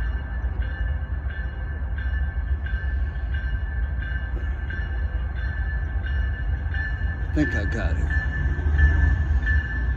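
A long intermodal freight train rumbles past a warehouse, a steady low roar with a brief squeal of metal near the end, while someone talks over it.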